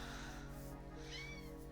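A single short, rising meow from a cat sounds in the middle, over a steady low hum in an indoor room.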